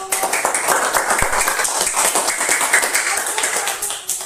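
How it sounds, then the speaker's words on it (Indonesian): Schoolchildren in a classroom clap for a presenting group, a dense patter of many hands close by that continues steadily. "Tepuk tangan untuk kelompok 1."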